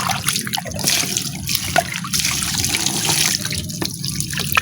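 Water runs steadily from a tap outdoors, splashing and trickling close by with small drips throughout.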